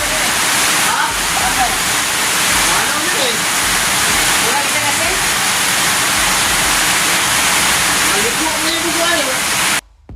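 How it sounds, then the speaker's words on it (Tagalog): Loud, steady roar of heavy rain pouring down continuously, a dense wash of noise with faint voices buried underneath, cutting off abruptly at the end. "Sobrang lakas ng ulan."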